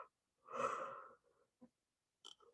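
A single deep, audible breath during a guided meditation session, a slow drawn inhale lasting under a second, followed by a few faint small sounds; close and quiet with no talking.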